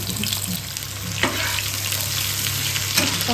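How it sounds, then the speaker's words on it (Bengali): Whole cumin seeds and chopped green chili sizzle in hot oil, a steady close crackling hiss with a couple of louder spits, continuous and without talk. "ফোড়নে দিলাম জিরে গোটা জিরে দিলাম আর সঙ্গে দিলাম কাঁচা লঙ্কা কুচি"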